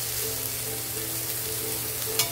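Onion, tomato and bitter gourd with green chilli frying and being stirred in a pan, an even close sizzle throughout with a faint scrape near the end.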